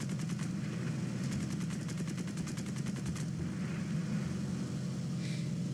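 Aircraft machine guns fire in rapid sustained bursts during a War Thunder dogfight between British reserve-tier planes, a fast rattling stream over a steady engine drone, with two main bursts and a short pause between.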